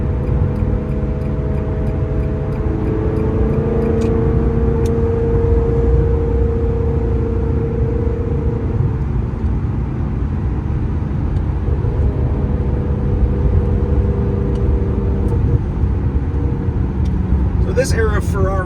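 A 2000 Ferrari 360 F1 Modena drives along with a steady, loud engine drone and road rumble, heard from inside the car. Pitch shifts come through gear changes, and someone talks over the engine.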